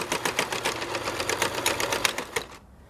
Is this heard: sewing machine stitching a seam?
yes